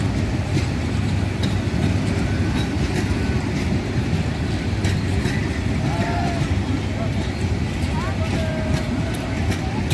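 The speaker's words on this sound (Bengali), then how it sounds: "প্রচুর মানুষ ট্রেনের ছাদে।" Crowded passenger train running past a rail line with people riding on its roof, a steady loud rumble and rattle of cars with constant clatter and faint distant voices throughout.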